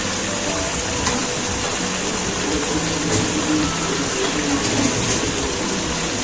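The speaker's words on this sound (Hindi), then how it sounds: "ये मैं तकरीबन 2 गिलास में पानी डाल दिया, ताकि इसमें आलू अच्छे से वो भी गल जाए" About two glasses of water pour into a pot of potatoes frying with spices for Delhi-style degi aloo gosht, a loud, close, steady rushing splash that runs unbroken.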